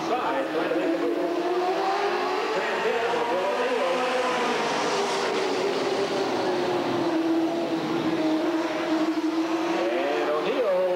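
Super stock race cars, a Camaro among them, roar around an oval track at Redwood Acres Raceway, engines holding a loud, steady drone that rises and falls in pitch through the whole stretch, with a race announcer talking over it.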